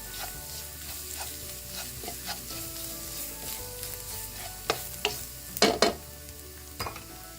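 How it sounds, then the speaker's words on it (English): Chicken pieces with coriander powder frying on a low flame, a soft continuous sizzle broken by spoon scrapes and a few louder stirring clatters near the end, close by with no talking. "Again, stir it on low flame. You want it to fry nicely."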